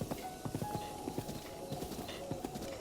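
A horse in the video game The Legend of Zelda: Breath of the Wild trots up when called, its hooves clip-clopping in quick irregular beats over a dense ambient background, moderately close and fairly quiet.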